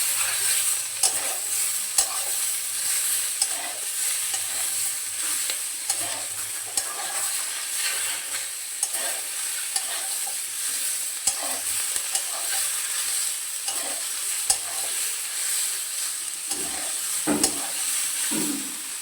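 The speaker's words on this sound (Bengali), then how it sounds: "টমেটোর কাঁচা গন্ধটা যাওয়া পর্যন্ত ভালো করে ভেজে নেব।" Potato, eggplant, tomato and green chilli fry together in a pan, giving a steady soft sizzle with intermittent scraping stir strokes, close and moderately loud throughout with no speech.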